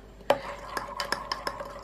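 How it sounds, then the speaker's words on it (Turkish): Spoon clinking and scraping against a glass as Dr. Oetker instant pudding is stirred, a handful of light taps spaced irregularly, close and quiet. "Pudingimiz tamamen eriyinceye kadar böyle karıştırıyoruz."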